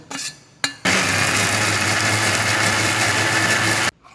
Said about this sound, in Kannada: ಸೊಪ್ಪಿನ ಒಗ್ಗರಣೆಯನ್ನು ಮಿಕ್ಸಿಗೆ ಹಾಕ್ಕೊಳ್ಳೋಣ